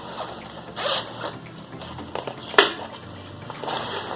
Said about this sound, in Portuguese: Eu vou pegar o meu zíper,